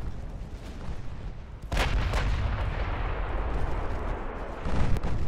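Heavy naval guns fire in Ultimate Admiral Dreadnoughts, a 1920 warship battle: one loud, booming salvo is followed by rumbling echoes and another deep blast near the end.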